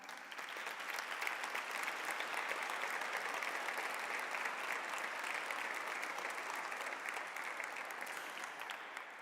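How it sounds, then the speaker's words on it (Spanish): An audience at a social entrepreneurship awards ceremony in Aragón gives the eight finalists a sustained round of applause, dense and even from start to finish, with no voices over it. "Por favor, pido un fuerte aplauso para estos 8 finalistas."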